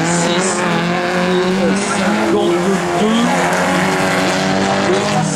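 Autocross race car roaring past at a rural French track event, its loud engine note rising and falling through gear changes, with tire noise and a crowd-side ambience throughout; a commentator speaks briefly.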